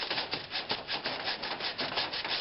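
Hand sanding of a turned wooden box on a lathe, a close, steady scratchy rubbing with quick back-and-forth pulses, continuous and fairly loud with no talking.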